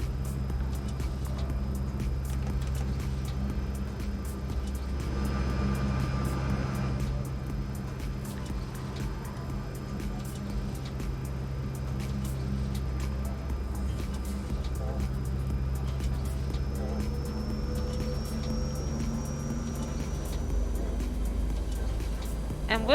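An airliner taxiing to the gate in the X-Plane 11 flight simulator produces a low, steady engine drone with faint whining tones that continues evenly throughout.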